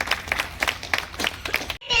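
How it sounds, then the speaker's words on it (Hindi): A few people clap in a loose, rhythmic pattern at an informal gathering, brief and fairly close, with voices in the background. "एक बार जोरदार तालियां।"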